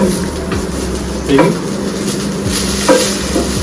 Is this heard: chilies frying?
yes